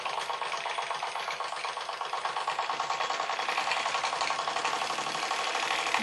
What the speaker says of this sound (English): They run a lot faster, even with that load, which is not inconsiderable for a small engine.